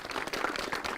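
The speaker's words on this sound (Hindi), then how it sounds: "और ये तालियों की गड़गड़ाहट जो है ढोडसर गांव से आ रही है" Villagers at a gathering in Dhodsar village, Chomu tehsil, Jaipur district, Rajasthan, give a brief burst of dense, steady applause.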